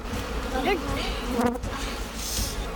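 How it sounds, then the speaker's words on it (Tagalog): A dense, steady buzz of many bees fills the whole clip, close and fairly loud, with a few brief tonal whines passing through. "Hanggang ang mga bubuyog tuluyan ng nagpulasan."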